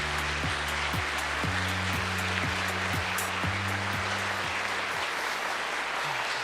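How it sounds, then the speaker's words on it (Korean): Steady audience applause fills a Korean government policy-briefing hall as a committee chair is introduced, with a low musical drone underneath; the clapping fades out near the end. "큰 박수 부탁드립니다."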